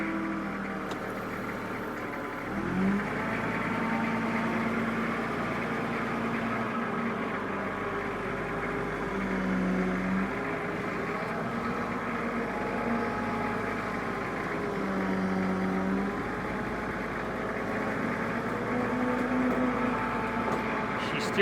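Nissan WGF03A40V 9,000 lb diesel forklift engine running steadily as the truck drives off, a continuous mid-low engine drone with little change in level throughout.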